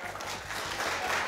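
Brief, moderate clapping from a studio audience on a cricket talk show, voting for Daniel, a steady patter with a repeating low beat underneath.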